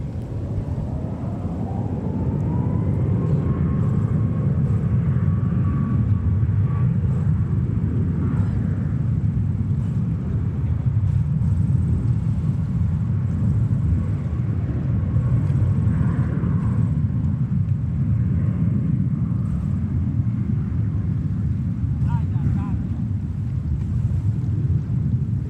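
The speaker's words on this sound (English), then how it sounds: "these aircrafts lining up and departing on 3-1 left" A jet airliner departs runway 31 Left at JFK airport, a steady, heavy roar with an engine whine climbing in pitch early on, holding loud and continuous throughout with no talking.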